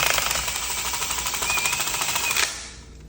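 A power drill spins steadily to twist a replacement bullwhip cracker, giving a continuous buzzing, rattling whir that runs loud for over two seconds and then cuts off abruptly.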